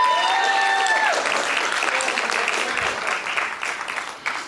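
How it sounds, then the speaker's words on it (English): A theater audience breaks into loud applause for fathers performing in a stage show, clapping and cheering heavy at first and gradually thinning, with a bit of talk near the end. "we want to give the fathers a great, great round of applause"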